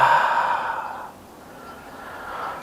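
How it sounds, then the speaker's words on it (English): A long, breathy exhale out through the mouth during a yoga flow, close and fairly loud, tapering off midway and followed by a softer second breath; no talking. "Take a nice big inhale through your nose, exhale out your mouth."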